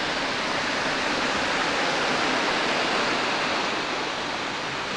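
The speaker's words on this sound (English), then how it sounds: "We made it to the waterfall." A waterfall pours in a steady, dense roar of falling water, loud and continuous throughout with no voices over it.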